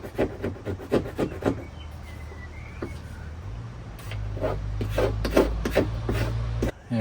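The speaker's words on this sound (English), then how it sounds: "once the brake cleaner actually gets into it and you start rubbing, it does all come off" Brake cleaner and a scrubbing pad or cloth rub caked grime off a car part, making steady scraping strokes in close, repeated bursts over a low background hum.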